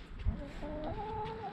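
A hen clucks softly close by, a few short throaty notes over faint background noise.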